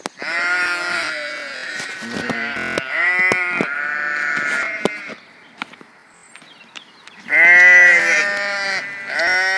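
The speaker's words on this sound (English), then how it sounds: "more sheep." Sheep bleat repeatedly at close range in a series of loud, wavering cries with short pauses between, the last bleat the strongest; no talking.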